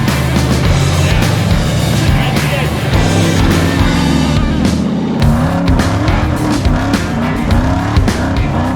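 A rock bouncer off-road vehicle accelerates hard across sand, its engine roaring loud and close throughout with rising revs and tire noise, sustained and aggressive without pause.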